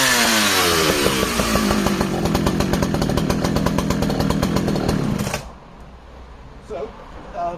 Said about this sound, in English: that's not the saw, Gareth, let me show you this saw running